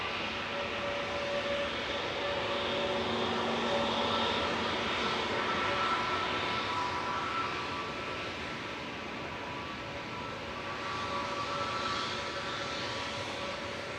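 An Aegean Airlines Airbus A320neo jet departs Manchester Airport, its engines a loud, steady roar with a whining tonal hum that holds through the whole stretch and eases slightly toward the end.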